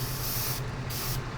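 An airbrush sprays white primer onto a 1/144 Gundam OZ-06MS Leo model kit, a close, steady hiss that pulses in short bursts with brief dips between passes.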